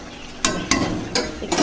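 Onion and fish curry simmering in a pan on a home gas stove, with a low steady bubbling bed broken by four sharp stirring scrapes of a spoon against the pan, close and fairly loud.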